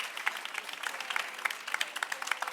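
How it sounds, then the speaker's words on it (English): A crowd at a Boston Marathon Expo panel event gives applause to three women, a dense, fairly soft patter of many hands clapping continuously at some distance. "I want you to give these women their applause, all 3 of them."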